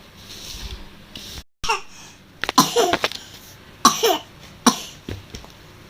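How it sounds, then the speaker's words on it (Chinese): A one-and-a-half-year-old toddler with a weak constitution coughs in several short, wet bursts close by, with pauses between the fits and a quiet stretch in a small room. "又咳嗽了是吧？"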